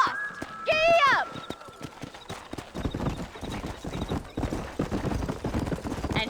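Horse hooves clip-clop in the Red Dead Redemption video game, opening with a whinny, then picking up into a quick galloping rhythm of close hoofbeats alongside a spoken voice.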